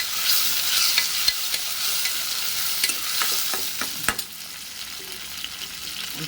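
Tomatoes go into a pan of onions frying on low gas, and a loud, steady sizzle hisses close by. Scattered clatters of stirring break through the sizzle, with no talking.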